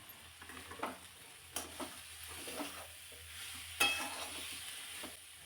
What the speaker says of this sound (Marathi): या सगळ्या मसाल्यांसोबत भाजी चांगली परतून घ्यायची.